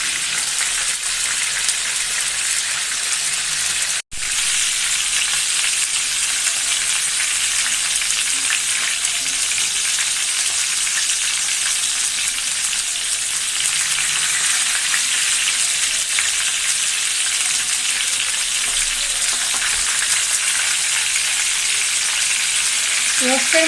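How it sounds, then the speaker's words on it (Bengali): Chicken pieces for a roast fry in hot oil with a loud, continuous, dense sizzle and crackle. The sound cuts out briefly once early on, then carries on steadily with no talking. "রোস্ট রান্না করার জন্য রোস্টগুলো আমি আগের থেকে ভেজে নেব।"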